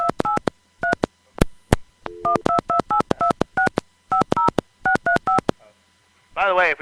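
A telephone number is dialed as a rapid run of touch-tone beeps, loud and close, in short bursts with brief pauses, ending in a garbled sound.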